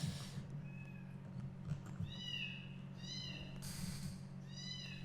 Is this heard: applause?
no